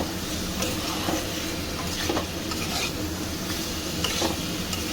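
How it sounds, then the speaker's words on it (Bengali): Gathi kochu (arum root) sautéed with spices in a pan for a prawn dum dish, a thick steady sizzle with recurring stirring scrapes every second or so, close and without talk. "এবার আমি এই গাঁটিটা ছেড়ে দিয়ে গাঁটিটাও এর সঙ্গে খুব ভালো করে মশলার সঙ্গে কষাবো"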